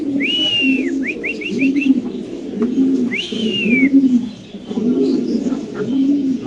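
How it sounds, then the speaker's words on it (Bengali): Pigeons at a pigeon farm, including a Baghdadi pigeon, coo in a steady, repeating low rhythm, close and loud, while sharp high whistled chirps rise over them now and then. "এখানে আছে একটা কবুতর বাগদাদি।"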